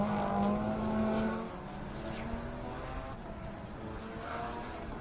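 A Honda NSX race car with a naturally aspirated engine drives the back straight at Circuit of the Americas, its engine note heard from a distance as a steady drone that fades after the first moment.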